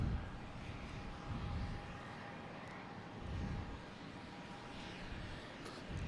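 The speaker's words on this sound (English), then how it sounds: "JetBlue coming in from, I believe it was West Palm Beach." A JetBlue airliner arriving from West Palm Beach at Boston Logan Airport, a low steady engine rumble swelling slightly and fading, distant and fairly quiet with no talk.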